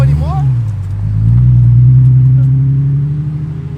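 A Toyota Supra's engine drones steadily nearby, swelling slightly in the middle as it pulls, with brief excited voices near the start.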